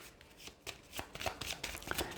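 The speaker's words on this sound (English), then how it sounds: "I'm going to shuffle it" A treasure card deck for the Legend of Drizzt board game is shuffled by hand at a table. Quiet, close-up riffling and snapping card sounds come in a quick, irregular run with no talking.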